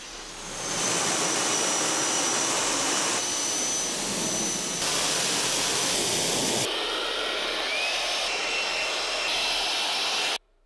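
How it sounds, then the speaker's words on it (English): A pressure washer rinses ceramic coating products off a car, giving a loud, steady high-pressure hiss and roar that runs almost the full length with little change before cutting off abruptly. "So with the power washer, we're just rinsing it away"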